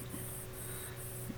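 Urethane paint hisses from a spray can onto a Hot Wheels A-Team van, a steady close airy spray broken into short bursts with brief gaps between passes.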